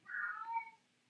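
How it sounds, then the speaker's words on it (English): A house cat gives a single drawn-out meow, close and clear, fading off after under a second in an otherwise quiet room. "excuse my cat again"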